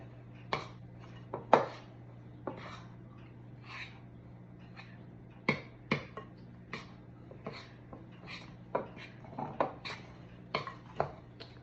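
Cookie dough is stirred in a bowl, with scattered clinks and scrapes of a utensil against the bowl in irregular bursts, close and fairly quiet, with soft breathing between strokes.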